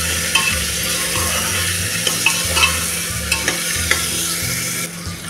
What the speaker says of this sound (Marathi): ते आता चांगलं असं परतून घेऊया।